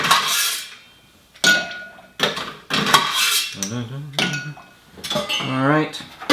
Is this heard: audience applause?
no